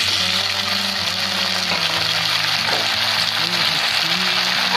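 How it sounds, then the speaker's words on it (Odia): Onions frying to golden brown in a pan for an aloo potato curry, giving a steady, loud, dense sizzle that runs throughout with a low hum beneath and no talking. "ବର୍ତ୍ତମାନ ତ ପିଆଜ ଗୋଲ୍ଡେନ୍ ବ୍ରାଉନ୍ କଲର୍ ହେଇଆସିଲାଣି।"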